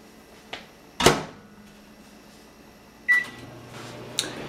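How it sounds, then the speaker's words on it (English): A few sharp clicks and knocks, a short electronic beep, then a low steady hum as a microwave oven starts running nearby, cooking potatoes. "you leave it in the microwave for 6 minutes"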